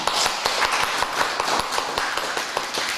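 A church congregation claps together during a service, many hands producing a loud, continuous patter of sharp claps throughout with no voices on top.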